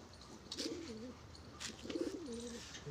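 Punjabi pigeons coo in two close, rolling phrases with a short pause between, soft and near against a low background hum.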